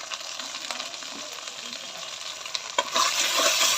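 Chili powder and turmeric masala being stir-fried in a pan for a boal fish curry, a steady close sizzle with scraping stirs, rising louder near the end as the spices fry harder.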